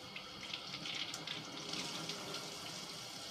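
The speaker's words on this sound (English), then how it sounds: "what I do is I turn on the cool water" Cool water runs steadily from a tap to rinse sandals, a continuous hissing splash at close range with no voices.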